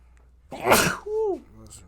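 A single loud, sharp sneeze bursts out close by, followed by a short voiced exhale.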